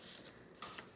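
Paper torn by hand to shape a junk journal label, heard as one quick, soft, close rip lasting about a second, with no voices.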